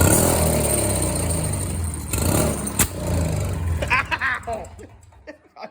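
A go-kart fitted with a snowblower engine runs loudly up close, a steady mid-pitched motor drone that fluctuates and fades toward the end, with people talking over it.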